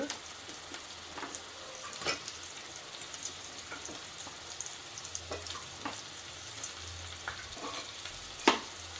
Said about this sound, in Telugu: సో ఇప్పుడు క్యాప్సికమ్ని బాగా నూనెలో వేయించుకోవాలి బాగా ఫ్రై అయ్యే వరకు వేయించుకోవాలి